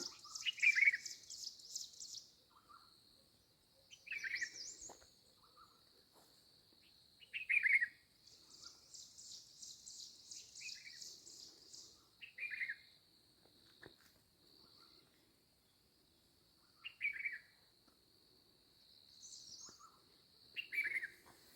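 Birds chirp and trill intermittently in the distance, short bright calls repeating every few seconds over a faint high insect-like buzz in an otherwise quiet outdoor setting.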